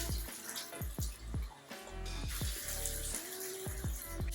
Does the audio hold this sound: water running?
yes